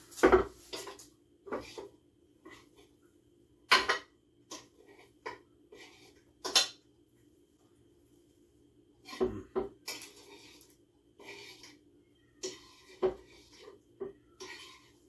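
Pulled pork goes into a slow cooker amid scattered clunks, scrapes and utensil knocks against the pot, loud and close, separated by near silence and with no talk.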